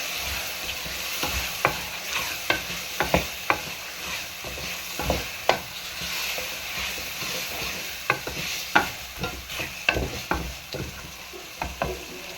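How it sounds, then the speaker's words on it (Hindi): Peas and potatoes are stirred into frying masala, with repeated scraping strokes of the spoon over a continuous sizzle, close and fairly loud, and no talking. "मटर और आलू डाल दूंगी। मिक्स करेंगे।"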